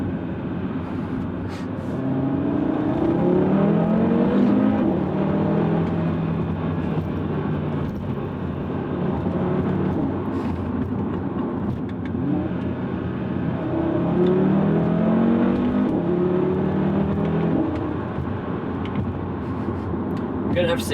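An Audi RS3 five-cylinder engine with a Unitronic Stage 1+ tune accelerates in rising, droning pulls, heard from inside the car with people talking over it.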